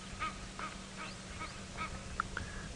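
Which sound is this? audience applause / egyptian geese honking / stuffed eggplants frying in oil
egyptian geese honking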